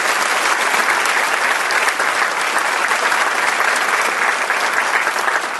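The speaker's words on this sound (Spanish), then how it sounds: "Recibamos con un fuerte aplauso" Dense, continuous audience applause welcomes an engineer to the stage at a business association event, loud and even from start to finish with no talking over it.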